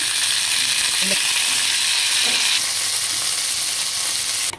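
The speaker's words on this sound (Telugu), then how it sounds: "ఇలా వేయించుకోవాలండి" Mint leaves fry in hot oil with a steady, close sizzle that runs throughout, broken by a couple of faint stirring scrapes.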